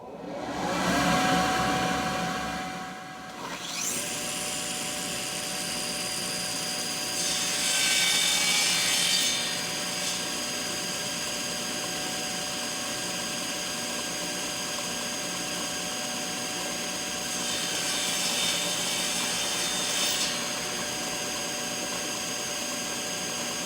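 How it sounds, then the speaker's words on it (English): Saw cutting tapered oak table legs, a steady whining blade drone running throughout at moderate level, with two louder hissing swells of cutting a few seconds long, no talking. "So we'll cut these legs now."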